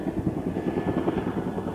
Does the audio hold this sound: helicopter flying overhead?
yes